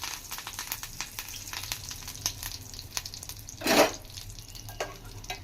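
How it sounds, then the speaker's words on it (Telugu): Curry leaves dropped into hot oil in a kadai for Andhra-style prawn fry, giving a soft steady sizzle with one louder crackling burst midway. "ఇందులో నేను కరివేపాకు యాడ్ చేసుకుంటున్నాను."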